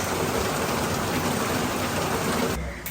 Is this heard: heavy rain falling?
yes